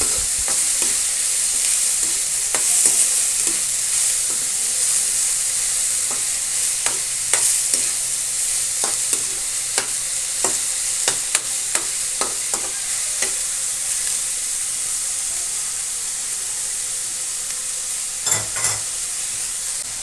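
Shrimp paste and kangkong stems sizzle in a hot pan with a steady bright frying hiss throughout, punctuated by scattered clinks and scrapes of a utensil stirring, close by, with no one talking.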